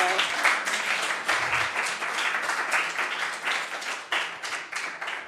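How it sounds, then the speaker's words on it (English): Warm audience applause for the team at a student consulting group's end-of-semester event, dense steady clapping throughout with a few louder individual claps and occasional cheers. "One big round of applause for"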